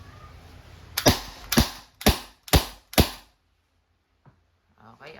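An Umarex T4E TR 50 Gen 2 CO2 training revolver fires five sharp, loud cracks at roughly half-second intervals, each with a short decay, followed by near silence and a couple of faint clicks.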